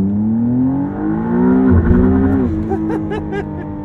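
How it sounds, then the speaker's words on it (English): McLaren Artura supercar launching from a standstill under launch control with the throttle pinned, engine tone rising steeply then dipping as it bogs off the line and picks up again, loud and close from the cabin. "for launch control, I've got to be stopped fully. And here with the left stock, I pull in to accept, foot left hard on the brake, pin the throttle"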